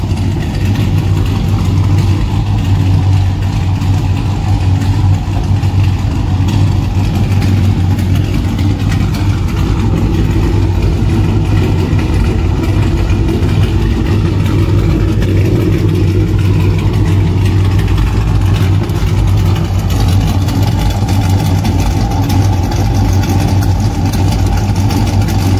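A 5.7 HEMI V8 fitted with an aftermarket J Green camshaft, fresh lifters and MDS delete, idling steadily and loudly close up for the whole stretch, with a deep rumbling tone and no talking.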